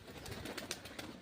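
Pigeons coo softly at a temple in Junagadh during heavy rain, a faint, brief murmur of calls over steady background noise.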